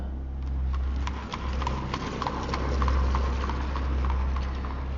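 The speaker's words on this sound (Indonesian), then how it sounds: "kedengeran suara derap kaki kuda" Horse hooves clip-clop in a steady walking rhythm over a constant low rumble on Mount Raung, heard from a tent, moderately close, with no voices.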